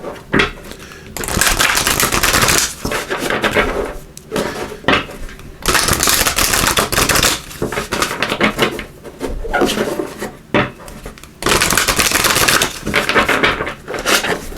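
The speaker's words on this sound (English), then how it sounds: "let me give these a shuffle here too" Oracle cards shuffled in several long, busy bursts separated by brief pauses, a dense papery rustle and flutter up close.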